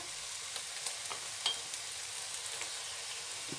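Keema roasts with salt in a pan, a steady close sizzle broken by light scraping ticks of a spoon at irregular intervals.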